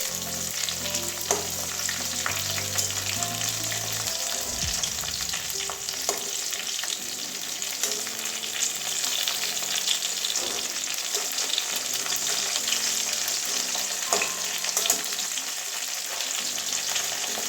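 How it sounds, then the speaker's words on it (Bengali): Pieces of pointed gourd fry in oil in a pan, a loud, continuous close sizzle with occasional scraping and stirring clatter throughout, no talking. "এইভাবে সমস্ত পটলগুলো উল্টে দেবো ওই দিকটাও এরকমই একটু লাল লাল করে ভেজে নেবো"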